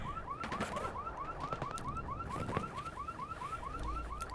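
Repeating car alarm in Escape from Tarkov, a steady rapid chirping whoop cycling over and over at moderate distance, with scattered clanks and game ambience underneath and no talk.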